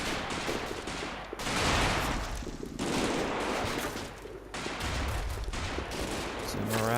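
Dense battle noise from the video game Combat Mission: Battle for Normandy, with heavy continuous gunfire and explosive blasts in loud, sustained bursts separated by brief dips, and a voice heard near the end.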